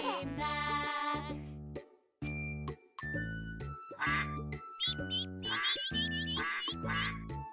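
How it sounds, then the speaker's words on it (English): Duck quacks in a children's song about a mother duck and her ducklings: bright, cartoon-like quacks repeated in quick bursts over a bouncy tune, with a brief pause partway through. "Mother duck said, quack, quack, quack."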